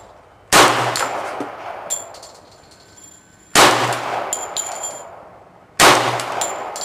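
Three loud, sharp gunshots from a Kriss Super V in .45 caliber at an outdoor range, a few seconds apart, each with a short ringing decay and faint metallic clinks afterward.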